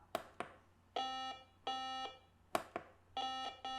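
A Haynes Electro-Synth beginners kit plays two pairs of sustained, buzzy electronic tones, each note set off by a sharp click, with brief silent gaps between them and no voices.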